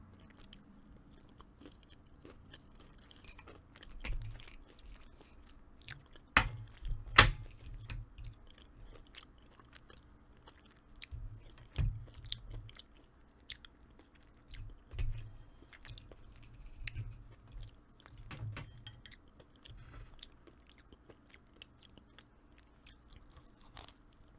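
Crispy burnt crust is chewed close to the mic in quiet surroundings, with scattered crunchy bites and soft chewing that come in irregular bursts, pause, and resume.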